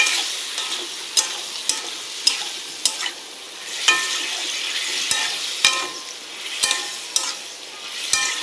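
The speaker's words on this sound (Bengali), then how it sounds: "এবারে আলুটা দিয়ে দেবো, সেদ্ধ করে রাখা আলু" Boiled potatoes fry and get stirred in hot oil in a village kitchen. A steady high sizzle runs throughout, broken by repeated sharp scraping clicks of the spoon against the pan, close and fairly loud with no talking.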